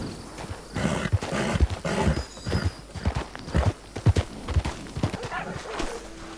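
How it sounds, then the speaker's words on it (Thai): Horse hooves in a video game, a rapid run of loud, close clip-clop beats in an uneven galloping rhythm, with occasional animal snorts mixed in and no speech. "เดี๋ยวผมไปซื้อม้าตัวใหม่นะ"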